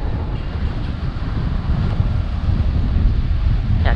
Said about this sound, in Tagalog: Sobrang lakas nung alon.